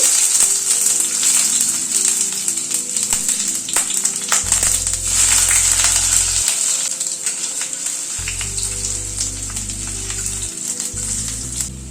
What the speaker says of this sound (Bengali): সরষের তেল দিচ্ছি। এখানে একটা বড় আলুকে 4 টুকরো করে সেদ্ধ করে নিয়েছি। আলুটাকে আগে ভেজে নিচ্ছি।